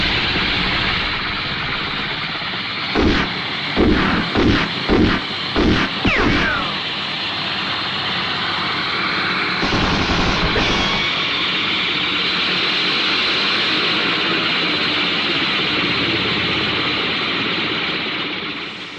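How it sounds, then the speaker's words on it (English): Helicopter A42 from a Gerry Anderson puppet TV series drones with a steady broadband engine roar, interrupted early by a quick burst of five or six sharp firing cracks, then a short louder blast, with the rotor noise continuing throughout. "Destiny Angel, helicopter A42 is firing at me."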